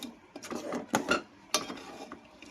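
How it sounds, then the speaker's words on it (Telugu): A spoon stirs chicken curry with added water in a pot, giving faint scraping and soft metallic clinks in a short irregular run. "ఇంకా వాటర్ పోసేసుకొని ఇంకా బాగా కలపెట్టేసుకుందాము"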